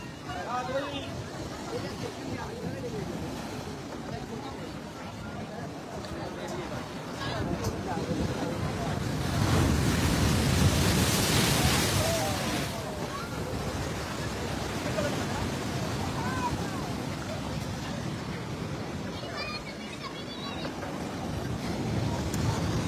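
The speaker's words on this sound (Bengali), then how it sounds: "পিছন থেকে আবারও একটা বিশাল বড় ঢেউ আসছে" Huge storm surge waves in the Bay of Bengal from a low-pressure system crash against the Digha sea guard wall, a heavy roaring wash building to a big surge midway, with someone talking throughout.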